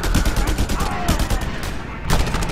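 Rapid bursts of automatic gunfire in the Just Cause 2 video game, loud and dense, with repeated sharp shots packed into clusters and a short pause before another burst.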